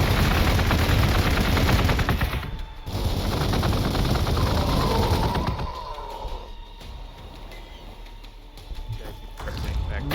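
Heavy ordnance fire in Warhammer 40K Gladius Relics of War, a dense continuous rumble of shots and blasts that thins out halfway through, then returns briefly near the end. Someone talks over the barrage.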